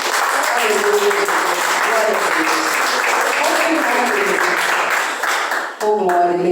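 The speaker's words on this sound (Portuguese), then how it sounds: "Você pode aplaudir ao Senhor Jesus?" A church congregation applauds, a dense, sustained clapping from many hands that fills the room loud and steady for several seconds, briefly dipping near the end, with voices calling out over it.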